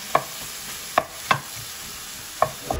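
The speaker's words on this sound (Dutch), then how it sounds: "En dan laten we dat eventjes een kwartiertje rustig bakken." Mushrooms and onion sizzle softly in a pan while a utensil stirs with a few sharp clinks and scrapes against the pan.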